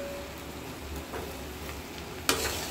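Ingredients for a shrimp dish are stirred in a hot pan, giving a steady, soft sizzle with faint spatula scrapes and a sharp clack near the end.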